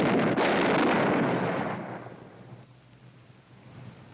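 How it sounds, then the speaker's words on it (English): A loud blast of Old West gunfire from a Wyatt Earp movie trailer, a dense burst of shots that swells, then fades into a long rumbling decay with no voices. "that's when the Earps and Holiday opened fire"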